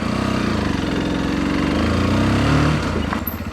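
A Junak RX ONE 125 adventure motorcycle engine runs steadily up close, a loud continuous rumble with a slight rise in revs near the end.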